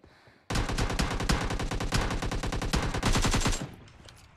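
Rapid automatic gunfire in the PUBG Mobile video game, a loud sustained burst of closely spaced shots lasting about three seconds after a quiet start, then stopping abruptly.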